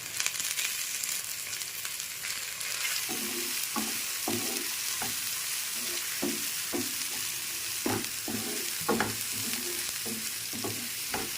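Ginger garlic paste and turmeric masala frying in a pan, a steady loud sizzle throughout with repeated scraping taps of a spoon stirring the mixture in an uneven rhythm.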